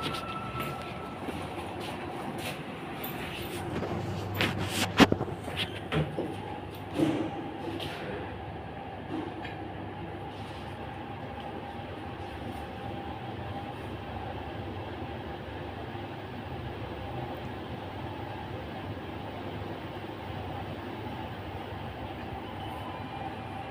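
Metro train running at a station, a steady low rumble and hum throughout with a few sharp clanks and rattles near the start before settling into a continuous drone.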